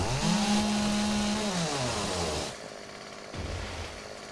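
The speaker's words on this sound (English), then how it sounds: "Chainsaw is great though." A chainsaw cuts through trees in the game 7 Days to Die, roaring loudly at first, then dropping to a lower idling drone before revving briefly again, with no voices.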